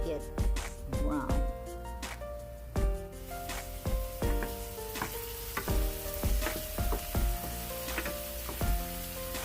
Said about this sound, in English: put the onions. Stir it until it gets brown.